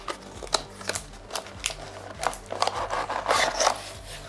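Packaging of a ROCCAT Burst Pro gaming mouse being opened: a run of close, dry rustling, rubbing and scraping bursts at an irregular rhythm, growing busier toward the end, over a faint low steady background.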